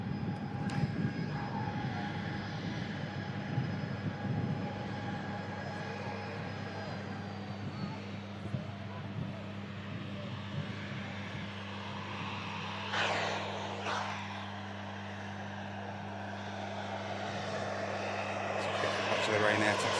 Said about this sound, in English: Ryanair 737 MAX 8200 coming in from Murcia